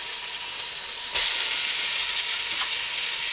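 Meat dropped into a couple of tablespoons of hot oil in a big pot for a pork and bean pepperpot, a loud broad sizzle bursting up suddenly and holding steady and close.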